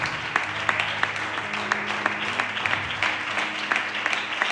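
Congregation applause in a church service, steady dense clapping throughout with sharp individual claps standing out, accompanied by a sustained low tone underneath.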